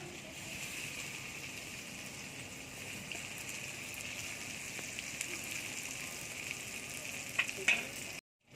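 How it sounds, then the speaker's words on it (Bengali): Hilsa fish frying in spiced oil, with a steady close sizzle and crackle that runs unbroken through most of the clip, a few sharper pops near the end, then a sudden stop. "এই মশলা তেলেই মাছগুলো ভেজে নেব"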